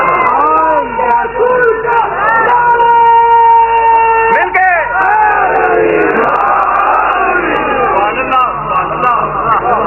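A large crowd chanting a religious slogan at a Shia majlis, loud and close, with rising and falling shouted voices layered over a speaker's amplified voice.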